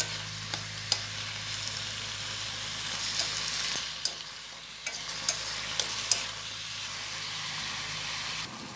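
Oyster mushrooms stir-fry in a pan, with a continuous crackling sizzle broken by repeated scraping and tapping clicks from stirring at an irregular pace. No voices.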